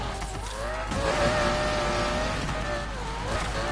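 A car in Need For Speed Payback slides out of control with a loud engine roar and long, wavering tire squeals that rise and fall throughout. A voice is faintly present underneath.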